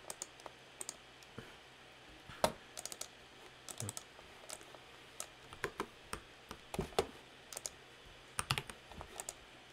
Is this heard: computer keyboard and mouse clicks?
yes